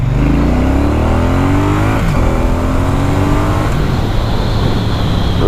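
Triumph Bonneville T120 Black motorcycle on a test ride, its twin engine loud and close, revving up through the gears with rising pitch, a shift, then pulling on in a steady roar with wind.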